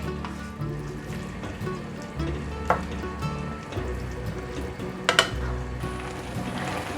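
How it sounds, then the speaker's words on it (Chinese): Stir-frying in a wok with white pepper and rose salt just added: a steady broadband sizzle runs throughout, with a few sharp clinks of the utensil against the pan near the end. "赶快拌炒，从锅子边缘往内推"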